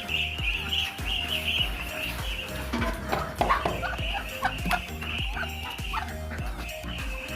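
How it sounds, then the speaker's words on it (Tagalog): A flock of ducks calls close by in a backyard pen. Rapid, overlapping nasal quacks and chatter carry on steadily and loudly without a break. "Ayan yung mga bibe."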